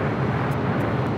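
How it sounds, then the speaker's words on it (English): A Boeing 747-400 freighter touching down on the south side at LAX gives a steady, loud broadband engine roar that holds evenly throughout, with no pauses or talk. "747-400 freighter about to touch down on the south side"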